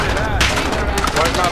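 Continuous dense automatic gunfire from a Call of Duty: Modern Warfare match, loud and close, with rapid overlapping shots filling the whole moment and voices faintly mixed underneath.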